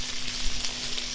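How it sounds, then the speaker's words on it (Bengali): Spice-marinated sea fish frying in oil on a stove, a brief, steady crackling sizzle at close range. "ভাজাও দিয়ে দিছি চুলায়"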